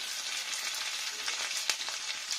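Crushed ginger, a bay leaf and slit green chillies crackle and hiss in hot oil for a vegetable curry tempering, a steady close sizzle with a few sharper pops and no talking.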